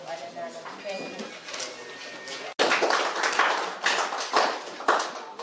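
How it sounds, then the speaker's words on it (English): Clapping from the audience at a moot court session, scattered at first and then swelling into fuller applause, with a voice speaking near the start. "Another round of applause for her, please."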